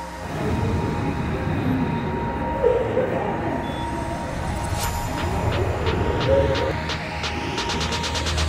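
Steady rumble and whir of a Cablebús aerial cable car gliding over Mexico City, a continuous mechanical drone with faint squeaks and a short run of rhythmic clicks as the cabin passes a tower.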